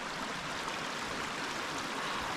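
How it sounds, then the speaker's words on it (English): A small Appalachian Trail mountain stream with little waterfalls rushes in a steady, even broadband wash, close and constant throughout, with no voices. "there's another small stream that feeds into it"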